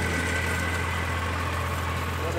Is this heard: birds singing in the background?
no